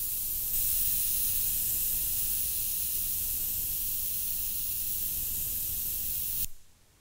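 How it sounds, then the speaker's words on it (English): A steady, fine hiss of a $27 airbrush spraying Alexseal boat paint runs for several seconds without a break, then cuts off abruptly. "yeah, that's spraying out real nice"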